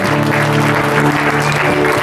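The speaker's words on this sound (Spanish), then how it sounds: "Denle un fuerte aplauso a Dios, Señor." A church congregation applauding during a Spanish-language service, loud dense clapping over sustained organ or keyboard tones.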